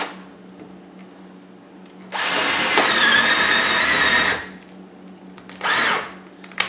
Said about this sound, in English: Better not drill down too far, I'll drill in the bench